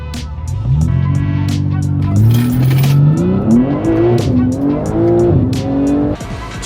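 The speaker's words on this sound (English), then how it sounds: "right now, we're racing my own 340" A BMW G80 M3 in a half-mile drag race against another car roars loudly and close, its engine climbing steeply through the gears with brief dips at each shift, the other car's sound under it.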